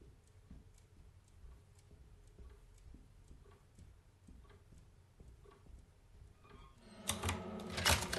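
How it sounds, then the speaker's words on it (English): Typewriter keys tapped in a steady, light clicking rhythm in the Alone in the Dark game, followed by a louder burst of noise near the end. "I'm touching your typewriter!"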